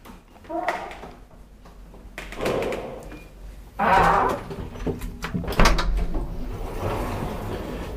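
Inner doors of an old 1963 Siemens elevator in an apartment building slide and thump, with clunks and rattles of the mechanism close by, while someone talks intermittently.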